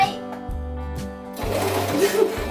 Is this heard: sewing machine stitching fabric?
yes